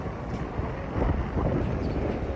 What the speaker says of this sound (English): It's windy here in the Windy City